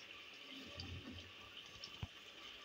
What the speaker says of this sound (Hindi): तो पानी ऐसे डालना पड़ता है।